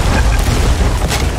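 Naval cannon fire in the pirate video game Sea of Thieves during a PvP ship battle, a loud, dense low boom rumbling through the whole moment with a second burst near the end.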